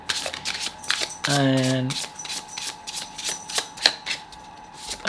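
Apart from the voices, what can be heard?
shuffling tarot cards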